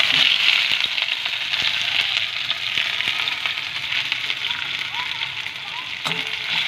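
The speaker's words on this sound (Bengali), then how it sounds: "এবার আমরা দিয়ে দিলাম কিছু পেঁয়াজ কুচি।" Chopped onions dropped into hot oil with bay leaf hiss in a continuous, fairly loud sizzle over medium heat, with occasional soft clicks and a faint voice in the background.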